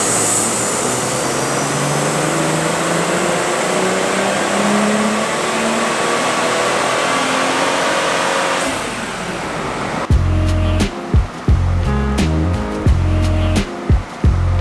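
A BMW engine revs on a dynamometer, a long rising full-throttle pull that climbs steadily in pitch, then cuts to loud, choppy bursts of revving and a few sharp drops near the end.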